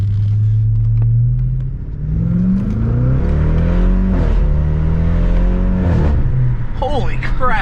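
A Duramax diesel truck engine revs in smooth rising and falling swells over a deep idle rumble, loud and close, with people talking over it.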